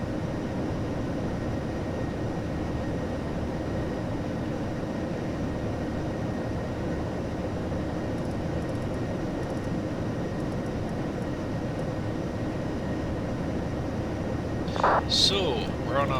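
A fixed-wing airliner taking off in a flight simulator game, its steady engine roar droning evenly throughout, with a brief clatter near the end.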